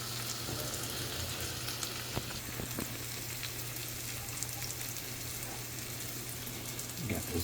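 Vegetables frying in a pan, a low steady sizzle close by with a few light clinks and scrapes scattered through, fairly quiet with no clear voices.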